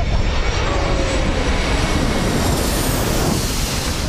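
An airplane passes low over the runway approach at Corfu airport, a loud, continuous engine roar with a shifting whine that fills the whole stretch.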